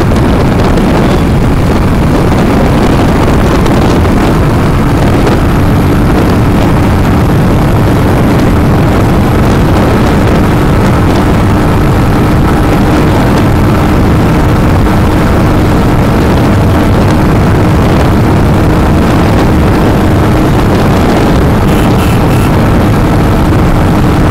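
Royal Enfield Hunter 350 motorcycle held at top speed in fifth gear, a loud, steady engine drone mixed with heavy wind rush that stays constant throughout with no talking.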